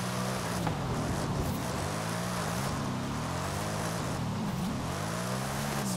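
A Ford Mustang RTR Spec 5 engine in Forza Horizon 5 drones loudly and steadily, its pitch rising and dipping through gear changes and revs.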